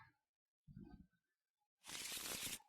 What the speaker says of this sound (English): Just shuffle up my deck here.